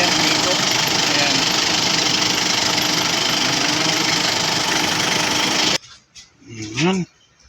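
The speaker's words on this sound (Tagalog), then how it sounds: "Umiikot ang kanyang magnetic clutch." Car engine idling steadily during air-conditioning repair, its compressor magnetic clutch spinning in a continuous dense mechanical drone that cuts off abruptly near the end, leaving brief voices and small clunks.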